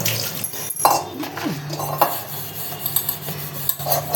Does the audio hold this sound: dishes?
yes